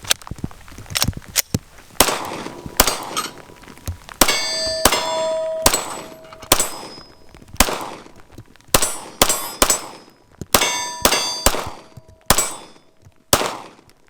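A Rock Island STK100 9mm all-metal striker handgun fires a string of sharp, loud shots at an uneven pace close by, with metallic ringing clangs from struck steel targets following some shots.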